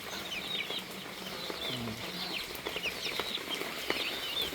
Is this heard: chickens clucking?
yes